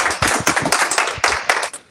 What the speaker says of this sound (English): I love it when you applaud before I even say anything